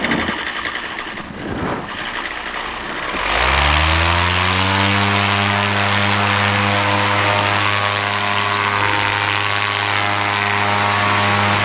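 A paramotor engine is started after some wind and rustling, then settles into a loud, steady droning run with a strong propeller buzz that holds close and constant to the end.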